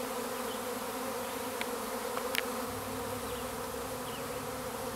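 A honey bee swarm gathering outdoors fills the air with a dense, steady drone of many wings, continuous and fairly loud, with no voices.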